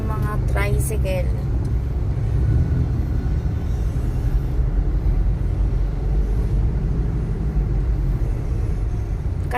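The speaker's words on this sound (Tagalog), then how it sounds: "Ayan, ang mga tricycle." Motorized tricycles drive along a flooded road during a storm, their engines making a continuous low rumble with a brief voice at the start, then steady traffic noise.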